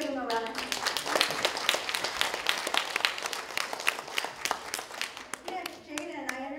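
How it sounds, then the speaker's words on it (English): A school audience claps together for two guest speakers, a dense burst of hand claps lasting several seconds, with children's voices chattering through it. "Let's give them a round of applause."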